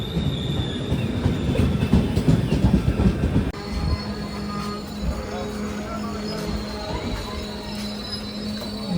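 Nilgiri Superfast express train at a station platform: heavy rumbling and rhythmic wheel clatter, then sustained high metallic wheel squeals ringing out as it moves slowly alongside, close and loud.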